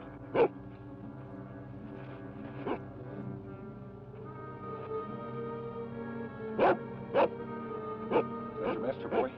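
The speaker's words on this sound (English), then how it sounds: "Tonto, a dog." A dog barking on an old Lone Ranger radio-style drama set near a canyon gold strike, several sharp barks in short bursts over a steady musical and ambient bed.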